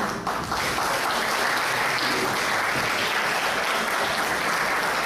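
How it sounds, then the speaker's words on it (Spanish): An audience applauds steadily at a university humanities event in Puerto Rico, dense clapping sustained and fairly loud for the full length without voices. "para quien también le voy a pedir un aplauso"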